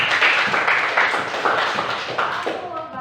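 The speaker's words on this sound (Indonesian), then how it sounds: "kita tepuk tangan lagi untuk Redo." A classroom of students claps their hands together in a steady, lively burst that continues throughout, fairly close and loud, trailing off at the end.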